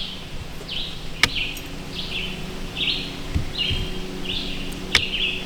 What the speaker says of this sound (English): Django and I are just surrounded by birds.